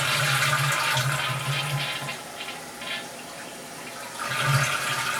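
A toilet flushes, a steady rushing of water swirling down the bowl that carries on for several seconds and swells again near the end, heard close up with no talking.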